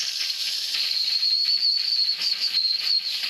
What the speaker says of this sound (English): We'll judge a bit by what noise the whistle makes.